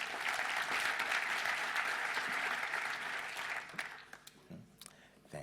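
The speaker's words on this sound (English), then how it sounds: "May I have a warm round of applause for Reggie Middleton?" Audience applause for a keynote speaker at a talk on a European banking crisis, a dense steady clapping that fades after about four seconds into a few scattered claps.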